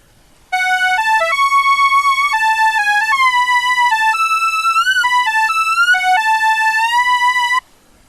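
A bright, buzzy synthesizer lead plays a lively stepping melody with quick note changes, continuous for about seven seconds, with no voices.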